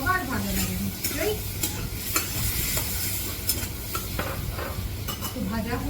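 Prawns and bottle gourd stir-frying for lau chingri: steady sizzle with repeated scraping and clinking of a spatula against the pan, close and continuous throughout, no talking.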